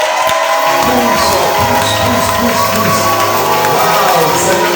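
A church congregation at a Sunday service cheering and acclaiming, a loud, dense crowd roar of shouts and voices that carries on throughout.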